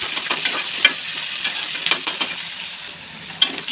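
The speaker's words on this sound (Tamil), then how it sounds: "இப்போ வெங்காயம் நல்லா வதக்கலாம்." Onions sautéing in a pan after garlic, with a steady hiss of sizzling oil and scattered light scraping stirs, close and moderately loud with no voices.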